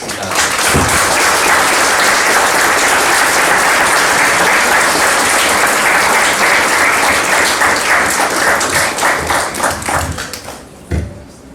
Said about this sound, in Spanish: Un aplauso para todos nosotros.